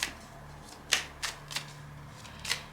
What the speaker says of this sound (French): on va tirer je pense quelques cartes seulement